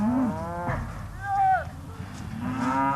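Cattle lowing in a crowded grading alley as yearling steers, feeding heifers and breeding stock are sorted on a ranch; several drawn-out moos, some overlapping, close and loud over steady background herd noise.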